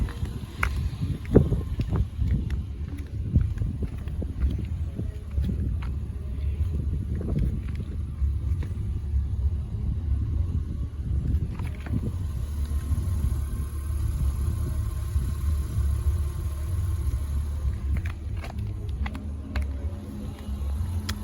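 A 2023 Honda Passport AWD engine idles just after startup with a steady low rumble, close by and unbroken, with faint mechanical clicks and movement noise on top.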